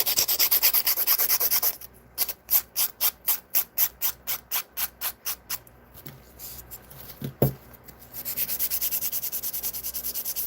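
An acrylic nail is filed with an 80/80 grit file in quick regular back-and-forth strokes, about a dozen close rasping passes, framed by a steady louder rushing noise before and after.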